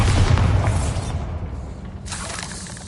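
A Bombarda blasting spell in a Harry Potter game erupts in a loud booming burst with a shattering crackle that decays over about a second, followed by a softer hissing swell.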